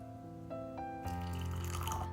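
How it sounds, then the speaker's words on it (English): Hot boiled snow pear water with rock candy being poured from a pot into a cup, a soft, steady trickling that grows fuller and brighter after the first second, quiet and close. "Now let's pour it into my cup."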